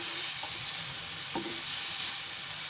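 Chopped onions and vegetables sizzling steadily in a pan for a home-made tawa pizza topping, with a couple of short scraping stirs of a spoon against the metal.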